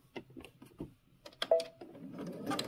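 Sewing machine stitching a fabric dart, a close, light mechanical whirring and ticking in short bursts after a few soft handling clicks, with a brief hum between runs.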